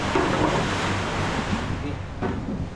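Strong sea waves surge around a small boat, a dense, continuous rushing roar mixed with wind buffeting the microphone, loud and close throughout with no clear breaks.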